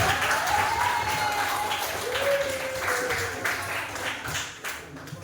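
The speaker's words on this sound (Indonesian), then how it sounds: "Tepuk tangan untuk ibu." A classroom of students claps for their teacher, a dense, steady round of applause that carries on for several seconds with a few voices mixed in.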